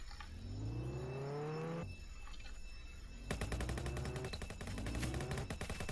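Gunfire in Roblox Jailbreak, rapid repeated shots rattling in a fast regular stream over a revving car engine, with the shooting growing denser in the second half, no talk.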